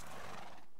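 A Minecraft horse whinnies in a loud, bright neigh that runs almost the whole moment, with faint hoof clip-clops mixed in before it cuts off.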